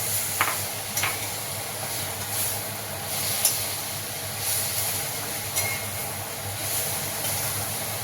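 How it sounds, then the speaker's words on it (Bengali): Jackfruit pieces being stirred into spice masala in a pan, with a steady hiss of frying beneath scattered scraping clicks from a utensil working the pan. "এই এঁচড়গুলো দিয়ে দিলাম, দিয়ে একটু নাড়বো চাড়বো"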